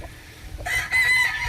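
A Boston breed rooster, a backyard gamefowl, crows once, loud and fairly close, after a brief lull with faint background noise.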